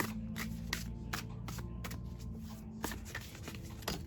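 A deck of tarot cards is riffled and shuffled by hand, producing a rapid series of crisp flapping bursts and slaps, close and fairly quiet, over a low hum.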